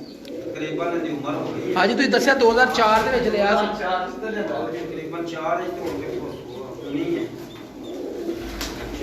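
A Kasuri pigeon coos in soft repeated bursts close by, mostly under a man's ongoing speech.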